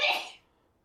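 A single short, sharp sneeze from a person nearby, a quick breathy burst that fades out within half a second.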